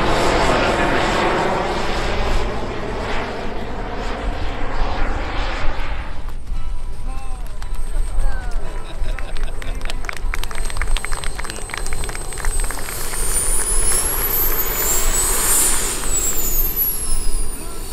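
A radio-controlled jet airplane flies at the Florida Jets event, its turbine roaring steadily throughout, with a rising and falling high whine as it passes overhead and wind noise in the background.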